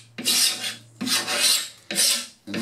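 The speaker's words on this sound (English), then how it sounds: "the first thing we need to do is scrape all the old shellac off" A scraper drawn across old shellac on wood taken from a skiff gives three long, harsh rasping strokes and the start of a fourth, loud and close, each stroke separated by a brief pause.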